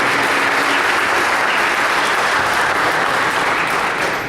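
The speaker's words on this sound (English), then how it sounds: "let's give them all of our athletes tonight a round of applause" Loud, sustained applause from an audience at a school board of education meeting, honoring the evening's student athletes, filling the whole span evenly before easing slightly at the end.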